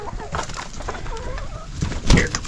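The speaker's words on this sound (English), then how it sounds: "Here, chickens. Chicken, chicken, chicken." Chickens on a mountain homestead cluck in short, scattered calls at close range, with a louder burst near the end over steady outdoor background noise.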